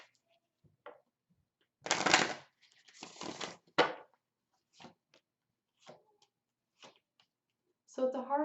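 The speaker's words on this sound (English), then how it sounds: "One more shuffle." Tarot cards being shuffled by hand in several crisp riffling bursts with quiet gaps between them, followed by a few soft isolated taps, close and fairly quiet.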